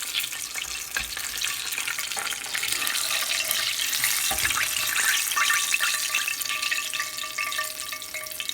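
Crispy coated chicken tenders fry in hot oil with a steady, loud, close crackling sizzle that runs without a break, no voices over it.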